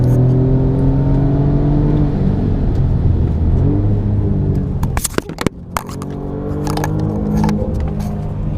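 Alfa Romeo Giulia Quadrifoglio on a racetrack, heard from inside as the engine drones loud and rises under acceleration, then a few sharp knocks and clatters before it pulls again.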